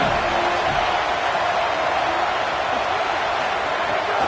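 Football stadium crowd roaring loudly and steadily as the home fans try to keep the opponent pinned deep in its own end, a dense, unbroken wash of noise with no clear talk on top.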